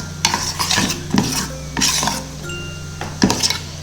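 Utensil scraping and clinking against a bowl while Oreo cake batter loosened with a splash of milk is stirred, in several uneven bursts with a steady hum beneath, close and fairly loud, no talking.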